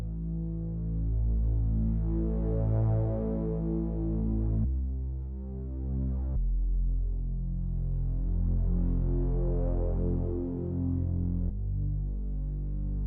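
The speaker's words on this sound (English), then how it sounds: "The next thing that I've added is this growler Moog bass from Omnisphere" A growling Moog bass synth patch from Omnisphere following root notes, a deep sustained throbbing drone with long held tones that shift pitch twice, steady and fairly loud without any voices.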